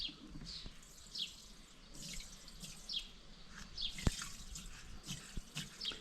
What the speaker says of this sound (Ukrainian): Набираю третину оприскувача води, висипаю добриво, розмішую і тоді добираю до повного.